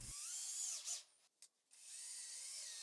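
A power drill drives screws through wood strips for a cabinet base, whirring loudly, pausing briefly with a short burst in between, then spinning again, close and without talk.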